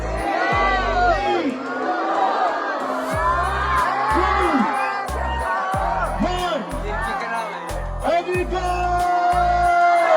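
A festive crowd at the Cochin Carnival cheers, whoops and shouts nonstop, close and loud, while deep rhythmic booming beats pulse underneath.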